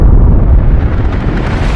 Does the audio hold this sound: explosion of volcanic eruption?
yes